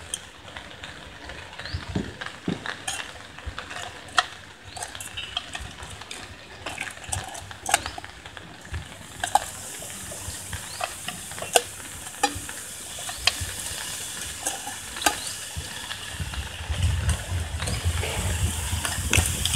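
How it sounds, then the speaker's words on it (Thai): Steady sizzling and crackling of river prawns grilling in a hot Teflon pan, with occasional scraping clicks, growing slightly louder toward the end. "เราจะใช้กระทะเทฟลอนของเราย่าง กุ้ง"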